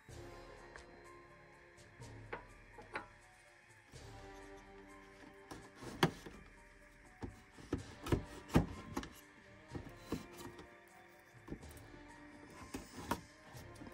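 A knife slicing and scraping through toy packaging, a series of faint, irregular cuts, rasps and small taps, close by and alone.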